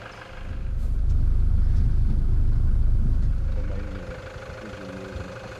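A Toyota Hilux bakkie engine rumbling as it works through a 4x4 obstacle course, a loud low drone that swells for a few seconds, then eases back to a quieter idle with faint rattles.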